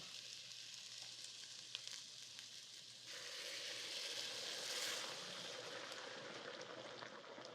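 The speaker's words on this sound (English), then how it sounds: "You can see it bubbling away, but it's not overly boiling" A soft, steady bubbling and sizzling hiss of broth gently simmering in a pot for mashed potato soup, faint and continuous, swelling slightly partway through.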